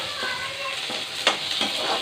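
Tomatoes fry in masala for mutton kuzhambu, giving a steady close sizzle with a few soft stirring scrapes over a couple of seconds and no voices.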